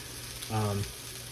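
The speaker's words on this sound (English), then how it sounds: "I'm going to add another piece of bacon to this" A strip of bacon is laid into a hot cast iron skillet and fries with a low, steady sizzle, swelling briefly as it hits the pan, then settling.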